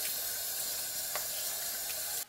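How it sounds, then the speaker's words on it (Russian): Sea bass rinsed under a running kitchen tap, a steady close hiss of flowing water that stops abruptly at the end. "теперь под проточной водой я промою."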